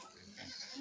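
A pig in a rural backyard pen gives a short, faint grunt that runs under a second, low and muffled against quiet background noise.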